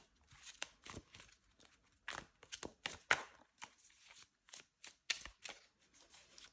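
Rider-Waite-Smith tarot deck of slippery cards shuffled overhand, soft irregular papery slaps and rustles at close range, fairly quiet, with no talking.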